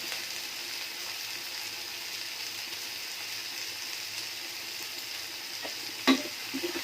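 Sliced onions sprinkled with salt fry in a pan, giving a steady, soft sizzle that holds evenly throughout, with a single light clink of a utensil near the end.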